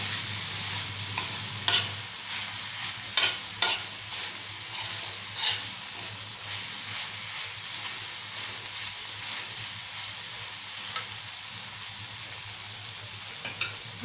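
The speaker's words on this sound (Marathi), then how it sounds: "परतून घ्यायचं आहे। बघा कोळंबी आपली छान तयार होत आले।" Prawn masala stir-fries on a tava pan, a close steady sizzle broken by repeated scraping stirs of a spatula against the hot metal, with no voices.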